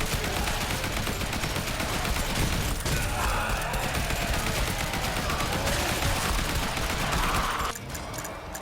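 Sustained assault rifle fire in a zombie survivors game, loud rapid automatic bursts running continuously for several seconds with dense overlapping shots, dropping slightly in level near the end.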